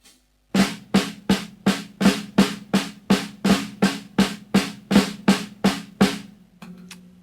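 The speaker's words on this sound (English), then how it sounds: "So a normal flam mill has got a flam on the first note of that." A drum plays a normal flam mill rudiment: about sixteen crisp, evenly spaced strokes in a steady rhythm, each with a flam and a short decay. The strokes ring out close and alone.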